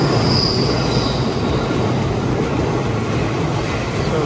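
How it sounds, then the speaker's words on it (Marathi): A local train pulls into Hon-Atsugi station in Japan with a loud, continuous rumble of wheels on rails and a thin high squeal of braking steel, close by, with no voices. "होनात्सुगी लोकल आलेली आहे."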